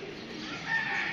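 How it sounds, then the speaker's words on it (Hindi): Pigeons coo softly in a brief, fairly faint burst of low bird calls over a steady background murmur. "निकाल देते हैं कबूतर।"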